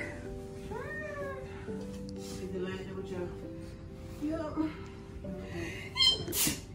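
A cat meows over soft background tones, then a short, sharp sneeze bursts out near the end.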